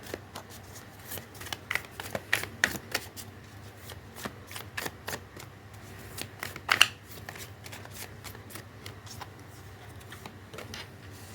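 Tarot cards are shuffled close by in a long run of quick riffling clicks and slaps, steady and moderately loud, without talking.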